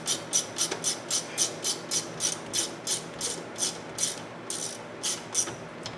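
A ratchet wrench snugs up rear brake bolts on a 2013 Mazda CX-5, giving a quick run of sharp, even clicks in short bursts, close and clear with no talking.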